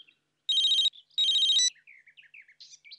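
A telephone in a Hindi comedy film rings with two loud electronic trills in quick succession, followed by faint chirping tones.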